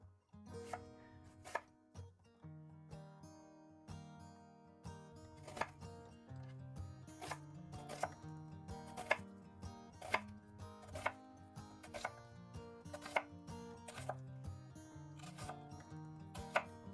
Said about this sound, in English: Next, we're going to prep our veggies. Today, I'm using onion and some carrot.